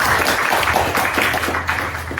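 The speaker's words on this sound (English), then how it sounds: "welcome again everyone, and applause for Steven" A conference audience applauds a speaker being introduced at a talk, steady clapping that carries through the whole stretch at even volume.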